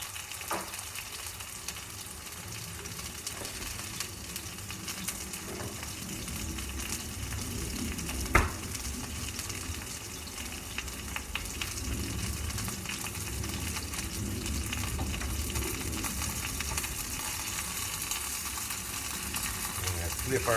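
Turkey breast cutlets dredged in flour seasoned with New Orleans seasoning sizzle steadily in a pan, a continuous close frying hiss with one brief clank partway through.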